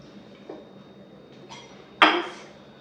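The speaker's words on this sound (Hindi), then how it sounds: "this is my new crockery for tadka" A new small tadka pan handled in a home kitchen gives a few soft metallic clinks, then one sharper, louder clank, close and quiet with no talk.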